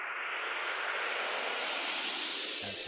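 A reversed white-noise riser in a future bass track sweeps steadily upward in brightness for about three seconds, growing louder and hissier as it builds into the next section.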